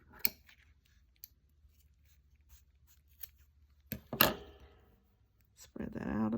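Scissors cut a piece of material up close, giving a few sharp crisp snips scattered over a quiet background, followed by a soft rustle at the end.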